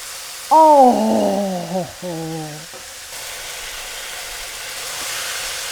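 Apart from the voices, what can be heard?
chicken searing and sizzling in pan on high heat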